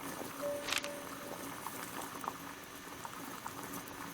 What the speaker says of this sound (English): Oh, we just hold it over the steam.